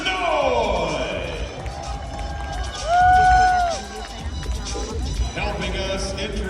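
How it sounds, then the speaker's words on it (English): SMU basketball fans in an arena during a women's pro league event, a broad roar of crowd noise and cheering that swells briefly at the middle, with an announcer's voice and arena sounds over it. "SMU fans, make some noise!"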